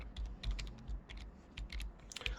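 Rapid clicking of computer keyboard keys as C code is typed, irregular close taps in quick bursts with soft thumps underneath, quiet and alone.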